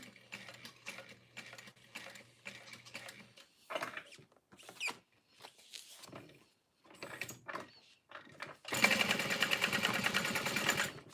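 A sewing machine stitches a garment in short bursts of rapid mechanical whirring, pausing between runs with small handling clunks, then a longer, louder stretch of steady stitching at the end.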